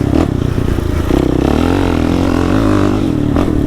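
A Suzuki LTZ 400 ATV rumbles along at low speed over mildly bumpy ground, its engine close and loud with steady chugging and rattling clatter from the suspension.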